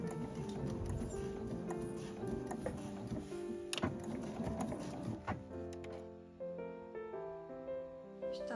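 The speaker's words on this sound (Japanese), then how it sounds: "そうしたら中央のところで縫ってきます。" A home sewing machine stitches heavy canvas for a zippered tote bag, a quiet rapid ticking and whirring that runs steadily, then changes tone and slows near the end.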